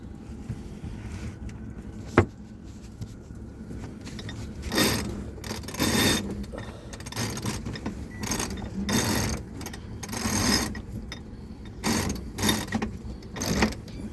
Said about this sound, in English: I'm gonna pull the jib out now